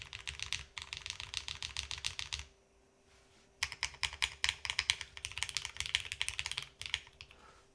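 Clacky, rapid keystrokes on a custom mechanical keyboard come in two close bursts of fast, steady typing, separated by a short pause of near silence.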